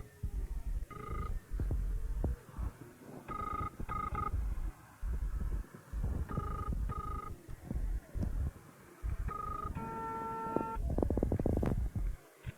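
A phone being dialed, a series of short electronic keypad tones in irregular bursts, close and fairly clear, with faint background noise and brief muffled voices between the tones.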